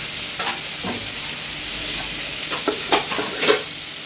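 Garlic frying in a pan for a curry, a steady close sizzle with several sharp scraping stirs of a spatula scattered across it; no voices.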